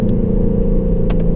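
A Lexus RC F engine in Sport Plus rumbles loud and close during a quick downshift, holding a steady low drone with a brief blip near the end.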